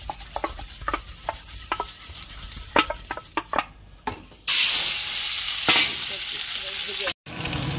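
Potatoes fry in hot oil with chili powder, starting with light stirring clicks and scrapes, then breaking into a loud, steady, close sizzle that hisses on to the end.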